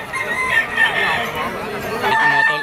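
A stag rooster crows at the Malabon pet market, a clear drawn-out call rising over market chatter, with a second crow starting near the end while people talk in the background.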